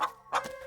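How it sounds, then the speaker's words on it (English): Two short, close chicken clucks in a video game, the second slightly longer and trailing off, heard alone. "a series of weak clucks call out from a nearby bush."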